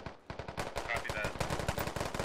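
Rapid bursts of automatic gunfire crackle in a SquadOps tactical shooter match, dense overlapping shots fired in quick succession at close range, loud and sharp throughout the short stretch.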